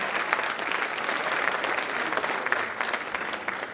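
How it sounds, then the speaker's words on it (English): Audience applause at a high school spring band concert, honoring the graduating seniors: steady, dense clapping from a full crowd that holds at an even level for several seconds, with no voices standing out. "Let's give one more round of applause for all our seniors."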